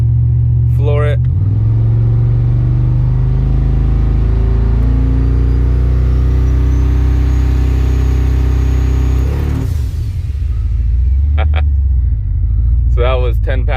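A twin-turbo GMC truck on a trans brake is floored, and its engine drones loud and close, rising in pitch for several seconds before dropping off. Brief voices come in at the start and end.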